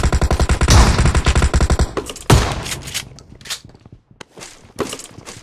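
Heavy automatic gunfire in a video game squad gunfight, starting as a steady loud rapid stream of shots, then breaking into scattered bursts and single cracks that fade in and out.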